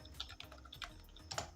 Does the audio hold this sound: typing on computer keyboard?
yes